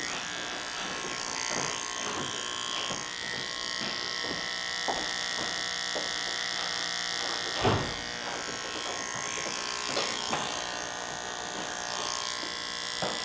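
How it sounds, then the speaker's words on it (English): An electric hair trimmer buzzes steadily throughout a men's pompadour haircut on curly hair, working along the hairline at close range, with small clicks and brushing noises under the hum. "so I'm just going to work with the T-trimmer up, follow his hairline"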